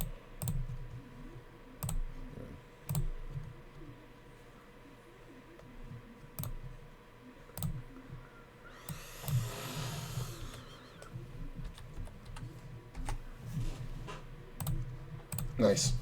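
Keyboard typing to enter a one-third pot bet in an online poker tournament, a run of light scattered clicks at close range over a low steady hum with brief noise bursts.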